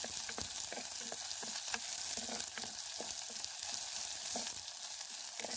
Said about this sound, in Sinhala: මේ ටික අපි හොඳ සුවඳක් එනකම් බැද ගන්න ඕනේ.